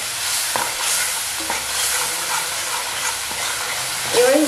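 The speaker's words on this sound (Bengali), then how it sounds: "এবার এই মশলাটাকে খুব ভালো করে প্রথমে কষিয়ে নেব।" Spice masala cooks down in a pan with a splash of water, bubbling and hissing while a spoon scrapes and stirs it in uneven strokes, ending in a brief sharper scrape.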